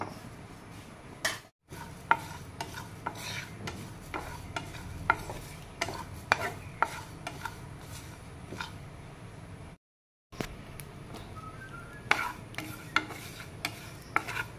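Black and white mustard seeds and cumin dry roast in a tawa pan, scraped and stirred with a spoon in a run of dry rasping strokes and small crackles, close and fairly quiet, with two brief silent gaps.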